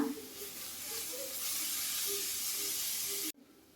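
Grated carrot roasting in a pan for carrot payasa, a steady close sizzling hiss that stops abruptly near the end.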